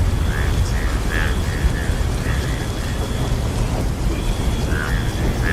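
A stormy night on a river with a boat, steady heavy rain pouring in a dense unbroken wash and low thunder rumbling underneath, loud and continuous with no voices.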